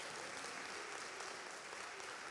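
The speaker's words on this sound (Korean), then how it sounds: "이렇게 박수 쳐줘야 되는데요" A church audience at a lecture gives faint, distant, steady applause, an even wash of clapping with no voices over it.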